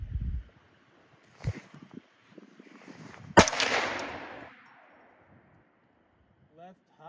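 Gunshots from a 350 Legend AR rifle at an outdoor range: a soft early pop, a stronger one, then a sharp loud crack near the middle that rolls off in a long echo before quiet returns.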